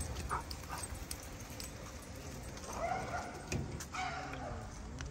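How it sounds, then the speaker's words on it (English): Young Belgian Malinois/Dutch Shepherd shelter dogs running past at a gate, giving a few short yips, barks and whimpers at moderate distance over a noisy outdoor background, with no clear speech. "I was just gonna let all the dogs run past"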